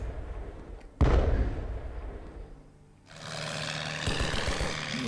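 Artillery firing in the Strategic Command WW1 strategy game: a sharp loud boom at one second that rolls off slowly, followed by a sustained crackling rumble of distant gunfire.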